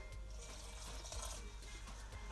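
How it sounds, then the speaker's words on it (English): Water is trickled gradually into bowl of bake dough in a home kitchen, giving a faint, steady pouring and splashing sound with no talking. "we're just going to be adding the water gradually until we have a nice soft dough"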